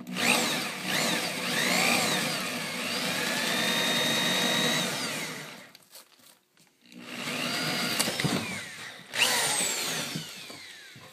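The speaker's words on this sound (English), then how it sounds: "So I'll go ahead and drill one of these." A power drill whines loudly as it bores into wood, running steadily, pausing briefly, then biting in again with a rising grinding pitch.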